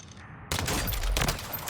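After a quiet moment, an automatic rifle in a shooter video game opens up with a sudden, loud, sustained burst of rapid fire.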